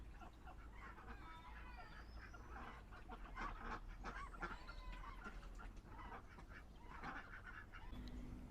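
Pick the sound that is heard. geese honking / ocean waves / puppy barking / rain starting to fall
geese honking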